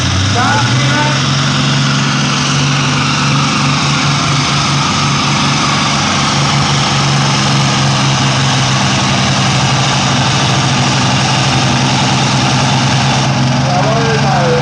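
A pulling tractor at a 1982 tractor pulling event in Anholt roars at full throttle, a loud, steady, sustained engine blare filling the whole stretch, with an announcer talking over it.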